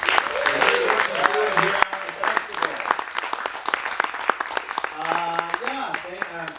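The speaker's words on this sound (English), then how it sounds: "Let's please applaud Michael McGee." Audience applause at a spoken-word poetry festival in San José, a dense run of clapping that fills the clip, with a voice speaking over it near the end.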